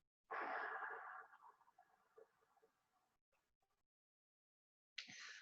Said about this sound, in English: So you constrict the back of your throat slightly, and even if you're breathing through your nose, it ends up constricting the exhale a little bit.